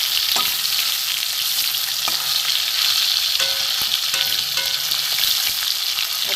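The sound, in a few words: hilsa fish pieces frying in oil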